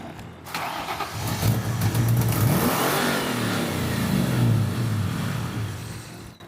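A Ford Mustang GT with an engine problem cranks and fires up in a garage, then revs with rising and falling pitch, loud and close, steady throughout.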